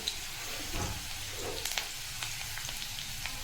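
Onion frying in hot oil with crackling cumin seeds for a Maharashtrian ridge gourd curry, giving a steady, soft sizzle with scattered small pops close by, no talking.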